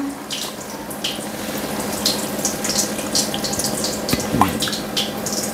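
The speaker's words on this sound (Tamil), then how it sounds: "இப்போ பாவக்காய் வேகிறதுக்கு தண்ணி ஊற்றிடலாம்." Water runs and splashes steadily into a cooking pot of bitter gourd with turmeric and salt, a continuous close pouring sound with small bubbling gurgles, no speech.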